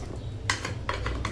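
Nehari with large bones is stirred in a metal pot, giving a handful of sharp clanks and scrapes spaced irregularly over a low, steady background hum.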